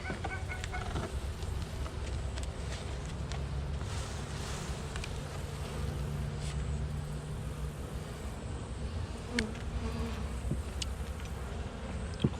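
Honey bees buzzing at a hive during a queen check, a steady, faint, close hum with a few hens clucking in the background.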